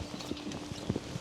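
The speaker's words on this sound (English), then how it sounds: "He's a horse we liked a lot last year." Horse hooves clip-clopping on hard ground in a racing stable yard, a few soft irregular hoof strikes, fairly faint and distant with no talk.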